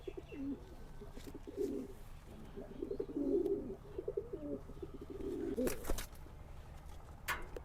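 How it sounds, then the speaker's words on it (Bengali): Male pigeons kept in a home loft cage, cooing in soft, repeated rolling bursts close by, with a few sharp knocks and light background noise between calls. "এটা একটা সিলভার প্যাটার্নের কবুতর এই যে দেখেন মার্শাল্লাহ খুব সুন্দর কবুতর"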